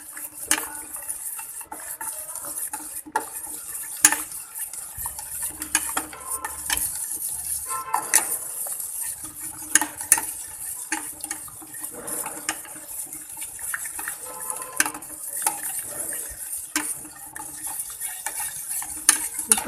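Herbal soap mixture is stirred in a pot. A utensil scrapes and clinks against the metal in a long, irregular series of knocks over a quiet background.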